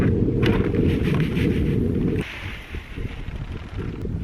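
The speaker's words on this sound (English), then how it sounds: "a decent wind coming in from the north" Wind from the north gusts over the microphone on a cold day of about 16 degrees Fahrenheit, making a loud, close rumbling buffet that eases after a couple of seconds into lighter, fluttering noise.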